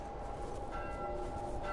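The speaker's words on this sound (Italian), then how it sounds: "Questi stanno facendo macello con le campane, molto bene." Church bells clang continuously in The Last of Us Remastered, a dense, ringing wash of tolling heard at moderate distance over a steady background roar, with no talking.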